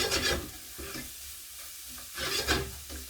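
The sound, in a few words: aubergines and courgettes cooking in a pan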